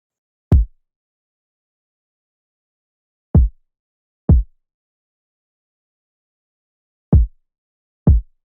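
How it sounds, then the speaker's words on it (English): Five deep electronic kick drum hits from a UK drill beat in a sparse, uneven pattern, punchy and isolated with silence between them. "Then the next thing I added was the kick."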